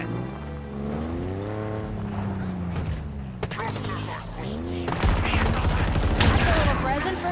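A mounted turret in Halo Infinite fires in sustained bursts over a droning vehicle engine, growing louder and denser toward the end, with voices in between.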